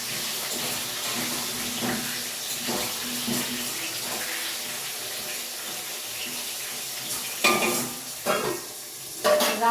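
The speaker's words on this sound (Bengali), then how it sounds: "রান্না হচ্ছে আর উচ্ছে উচ্ছে আর আলু দিয়ে ভাজা করবো" Steady hissing and sizzling of bitter gourd and potatoes frying in a pan, close and continuous, with occasional scraping stirs toward the end.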